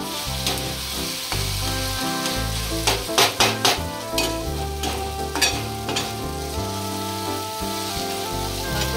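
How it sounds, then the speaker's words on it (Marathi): Tomato frying over a low flame in oil with onions for boiled egg masala, giving a steady sizzle with occasional stirring clatters beneath prominent background music. "शिजला पाहिजे तेलात कांद्यामध्ये, असं टोमॅटो भाजून घेऊया"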